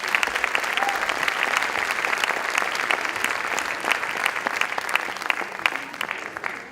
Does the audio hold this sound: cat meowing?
no